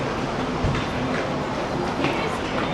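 Trains rumble and clatter through Waverley Station in Edinburgh, a continuous rolling roar with faint wheel clicks, heard from the station approach while a voice murmurs briefly in the background.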